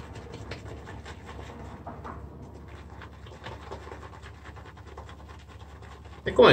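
A shaving brush whipping soap lather in a bowl gives a soft, continuous scratchy swishing, quiet and steady, close by, for several seconds.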